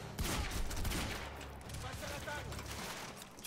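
Sustained bursts of gunfire from the video game Quantum Break, rapid automatic shots blending into a continuous loud rattle across the whole stretch, with someone talking over the shooting.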